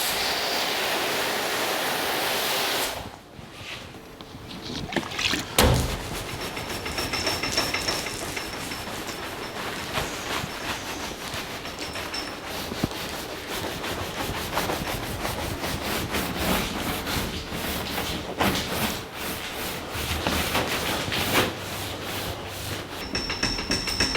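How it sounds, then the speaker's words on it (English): Buffer running on a 1982 Jeep CJ7 hood, a steady rubbing, whirring drone with repeated rhythmic scuffs and brief pauses, close and continuous throughout. "I'm getting ready to buff this hood out"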